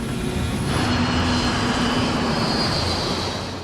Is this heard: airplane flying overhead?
yes